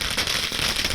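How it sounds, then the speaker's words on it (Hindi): Firecrackers burst in a dense, crackling barrage at an outdoor election-victory celebration by party workers in Hyderabad, loud and continuous with no pause. "कार्यकर्ताओं ने पटाखे जलाकर मनाया है"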